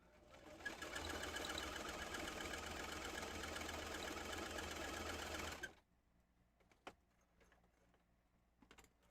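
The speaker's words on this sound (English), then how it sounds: "So we have sewed 3 sides to make a pillowcase." A sewing machine stitching the third side of a pillowcase, a fast, even mechanical whirr running continuously up close for about five seconds, then stopping, followed by a few faint clicks and handling sounds.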